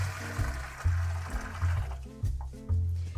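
Hot water is poured from a pitcher into a washing bag, giving rhythmic gurgling glugs that pulse about twice a second, close by and moderately loud.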